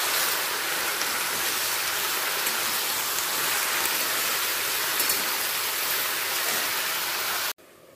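Vegetables boil in salted water over a low flame, giving a steady, dense, rain-like bubbling hiss that stays even throughout and cuts off abruptly near the end.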